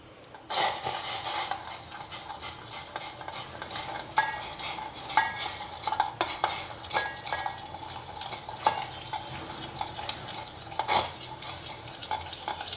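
A spoon stirs millet starch porridge (ganji) simmering in a pan on the stove, giving a steady scraping and swirling with frequent small metallic taps against the pan, close and moderately loud, with no voices.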